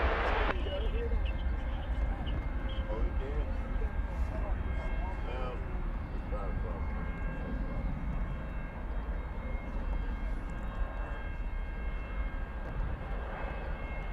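An American Airlines Boeing 737 Max 8 jet at DFW Airport at night makes a steady, broad engine roar throughout, with voices talking over it.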